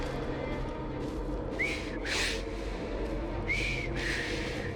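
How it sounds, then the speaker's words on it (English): A game character in Assassin's Creed Syndicate whistles a few short rising notes in two separate bursts, moderately loud over a steady background hum of ambient game sound, with no talk. "I've just learned to whistle."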